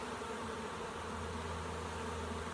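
A honeybee swarm being hived outdoors fills the air with a dense, steady buzzing drone that holds at an even, close level throughout, with no voices.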